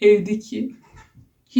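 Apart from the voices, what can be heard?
None of the usual background noises is heard.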